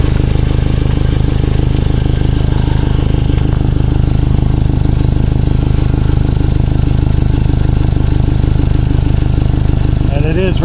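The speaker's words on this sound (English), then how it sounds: "I'm gonna go under here and see if I can locate the exhaust leak." A 2011 Toyota Camry engine idling with an exhaust leak at the flex pipe, a loud steady rhythmic puffing rumble heard up close underneath the car, continuous throughout.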